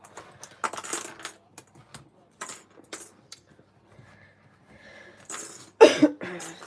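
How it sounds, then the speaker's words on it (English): Several short bursts of coughing from a person at a crafting table, spaced irregularly, close and fairly loud, with small clicks and tapping of craft materials between them. "Sorry, coughing."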